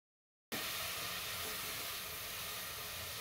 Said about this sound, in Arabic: هذا ما البصل يتقلى